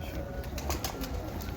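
Pigeons of Mistri Fazal Din's breed, with soft wing flutters and faint cooing against a low background rumble, close by and fairly quiet.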